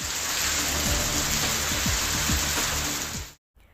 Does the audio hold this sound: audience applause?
no